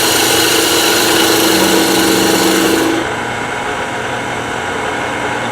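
Parting tool cutting into wood on a lathe, a steady high whirring cut that stops partway through while the lathe keeps spinning alone.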